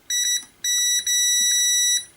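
A multimeter in continuity mode sounds a high electronic beep in short bursts while testing a projector circuit board: two quick beeps, a pause, then a longer tone and a sustained beep.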